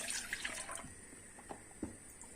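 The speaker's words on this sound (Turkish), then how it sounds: "İlk önce sütümüzü ilave ediyoruz. İki buçuk su bardağı süt." Milk being poured into a pot to start a homemade chocolate sauce, a steady close liquid stream with a few soft splashes and drips over a constant background hum.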